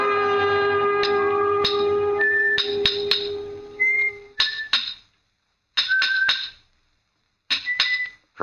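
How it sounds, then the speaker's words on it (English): A radio drama effect of a stonemason's yard: a cheerful whistled tune with sharp ringing hammer blows of steel on stone, struck in irregular clusters with short silent gaps between them. "From the yard itself came a cheery whistle, the noise of hammer blows and the cold sound of steel meeting stone"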